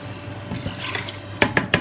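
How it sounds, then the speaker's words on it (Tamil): A cup of water is poured into marinated mutton in a pan with a little oil, making a soft splashing fill. It ends with three sharp clinks of metal on a pan. "இதில் இந்த கப்பில் 1 கப் தண்ணி விடுறேன்"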